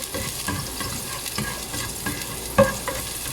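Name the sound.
garlic sautéing in a pan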